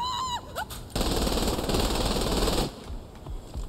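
Sustained automatic gunfire in Saints Row The Third Remastered on hardcore difficulty, shooting at an enemy's backpack: a loud, dense burst of rapid shots lasting nearly two seconds, with brief game sounds before and after.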